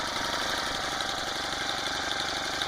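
A Honda GX25 four-stroke engine on a motorized bicycle idles steadily just after starting, a continuous even drone with a slight shake, heard alone and fairly close.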